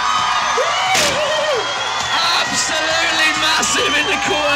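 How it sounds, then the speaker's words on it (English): A lively crowd at a bike tour event cheers and whoops loudly for a rider, with shouts and applause continuing throughout. "Give him a huge round of applause."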